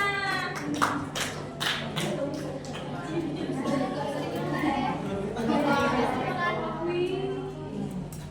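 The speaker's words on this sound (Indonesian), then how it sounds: "tepuk tangan dulu buat Rona" Children in a fifth-grade classroom clap briefly for a classmate, sharp claps bunched in the first two seconds, then lively chatter and voices carry on over scattered taps.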